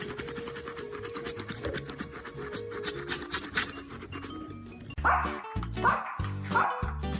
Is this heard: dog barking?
yes